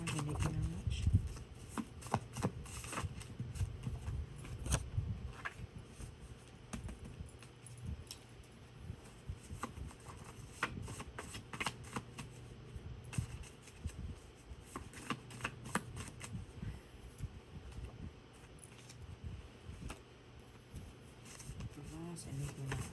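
Tarot cards being shuffled, repeated soft riffling and card-slapping bursts close by, fairly quiet, with a voice talking intermittently over them.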